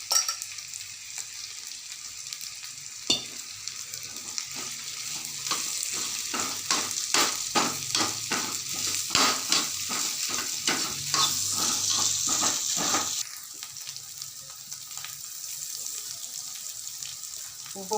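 A potato filling is stirred and sautéed in a pan, giving a steady sizzle broken by a quick run of rhythmic scraping strokes in the middle, close up, with no talk.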